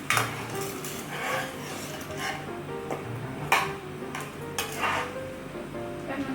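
Pickled eggs stirred with fermented fish in a pan, giving repeated scraping and clinking of a utensil against the pan over a soft sizzle, close and moderately loud with no talk.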